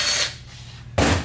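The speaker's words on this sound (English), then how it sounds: "I'm going to take this accumulator cap off first." A metal accumulator cap coming off a 1982-1987 GM 700R4 automatic transmission during teardown, heard as a short, close scraping rub followed by a sharp clack as the cap releases.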